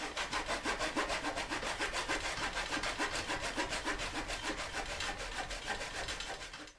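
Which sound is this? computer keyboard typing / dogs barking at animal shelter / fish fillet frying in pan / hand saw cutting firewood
hand saw cutting firewood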